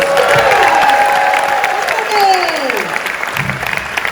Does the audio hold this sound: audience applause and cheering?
yes